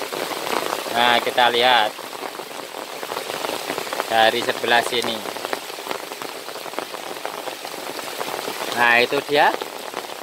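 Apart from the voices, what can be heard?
heavy rain falling on a chili pepper garden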